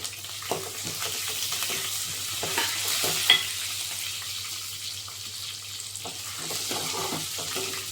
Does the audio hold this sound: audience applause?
no